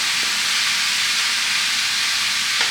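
Meat cooks in a hot pan with a strong, steady sizzle and hiss, close and continuous throughout, with no voices.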